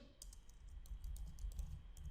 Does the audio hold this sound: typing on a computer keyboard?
yes